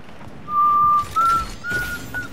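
A person whistles a tune of four clear, sustained notes with short breaks between them, close and fairly loud over a faint background hum.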